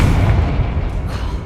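A Confringo spell explosion in a video game, a loud, close, rumbling blast that fills the whole short moment with dense low-end roar and no voices.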